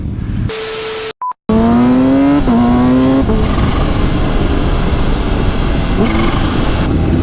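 A supercharged Kawasaki Ninja H2 motorcycle revs hard and close on an open stretch near an airport, the engine note climbing in quick stepped pulls and then holding a loud, rough drone, with no talk over it.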